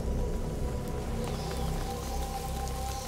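Rain falls steadily in A Plague Tale: Innocence, a dense, even patter of drops on surfaces, close and constant with faint dripping detail throughout.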